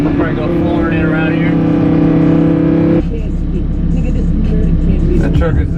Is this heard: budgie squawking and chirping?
no